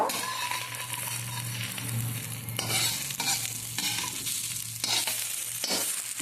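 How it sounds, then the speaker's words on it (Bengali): Egg-dipped bread slices frying in a pan, a steady close sizzle of hot oil with several spatula scrapes and pushes breaking in during the second half. "আবার ভেজে নেব বাকিগুলো এভাবে আমি ভেজে নেব"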